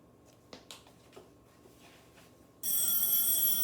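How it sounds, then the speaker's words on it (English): A telephone bursts into loud, continuous, shrill ringing after a few seconds of near-quiet with faint taps. "Sorry about the phone."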